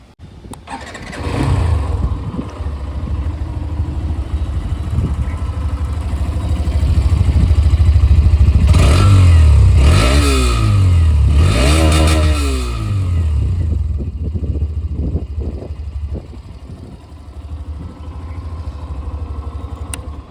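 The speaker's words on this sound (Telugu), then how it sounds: "ఇప్పుడైతే ఈ బైక్ని స్టార్ట్ చేసి సౌండ్ బీట్ ఎలా ఉందో చూద్దాం." A Hero Xtreme 125R motorcycle engine starts up and settles into a loud, close idle, then revs up and down several times before dropping back to a steady idle, with no talking.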